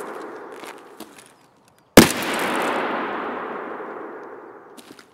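A single gunshot in the first-person shooter game Escape from Tarkov, a sharp loud crack after a brief hush, followed by a long decaying echo tail over faint background rumble.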